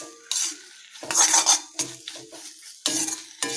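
Utensils scrape and clink against a bowl as egg is mixed into pieces of jilebi fish for fish chukka, coming in several short, close bursts of stirring separated by brief pauses.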